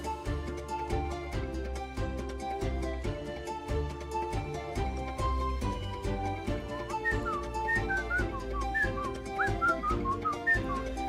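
A person whistles a melody along with Pokémon end-credits game music, the whistled line rising clearly over the steady rhythmic backing track in the latter half.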